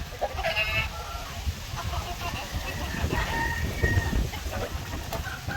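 White Leghorn chickens, older birds roaming loose outdoors, cluck and crow in a busy farmyard chorus, with overlapping calls at moderate distance over a steady background.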